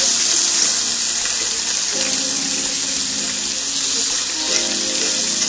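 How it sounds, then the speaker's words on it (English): Bacon frying in a pan on low heat, a constant loud hiss and sizzle that holds steady throughout with no talk. "you want to fry your bacon on low heat"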